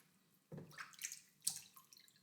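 A few quiet splashes and trickles as water is poured from a cup into a container during a children's capacity lesson, two soft pours about a second apart with faint drips between.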